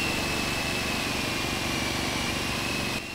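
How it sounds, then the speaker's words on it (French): A firefighting drone flies with a steady, loud whirring propeller drone and a constant high whine, holding level throughout before dropping slightly at the very end. "Ce drone expérimente un radar pour observer également à travers les murs"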